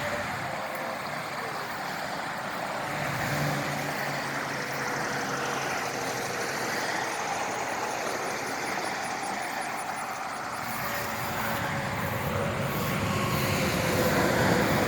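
A helicopter at an outdoor meetup alongside armored vehicles gives off a steady, broad engine roar that holds fairly constant throughout, with no voices over it.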